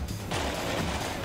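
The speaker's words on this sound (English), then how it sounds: "Small arms fire is penetrating the rear of that steel beast and inflicting several casualties." Small arms fire strikes an M113 armored carrier in the Combat Mission Cold War war game. It comes as a dense, continuous crackle of rapid gunfire, loud and close.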